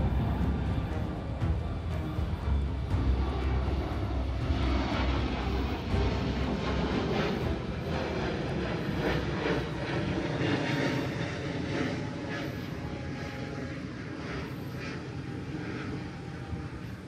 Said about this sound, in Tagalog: Kitang-kita mula rito ang pagtaksi ng mga eroplano.